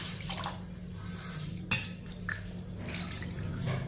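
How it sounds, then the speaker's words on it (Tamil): Water trickles and drips into a container of ragi millet being soaked, faint and close, with a few light clinks of the vessel and a low background hum. "இப்போ இதில் தண்ணி ஊற்றிக்கிடுவோம்."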